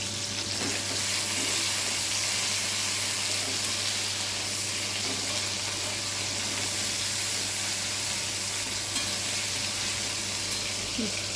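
Chopped tomato with a dried red chilli and two bay leaves sizzling steadily in hot oil while being stirred, a continuous frying hiss with occasional soft spoon scrapes, close and even throughout.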